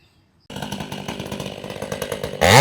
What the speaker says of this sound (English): I'll come back to you when the saws are running.